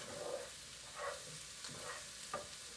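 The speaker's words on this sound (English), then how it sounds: "Okay, so I'm putting the turkey in there. Gonna saute that up with all these flavors." Ground turkey sautés in a pan with aromatics, a soft steady sizzle broken by a few scraping stirs of a utensil, faint and close, no voices.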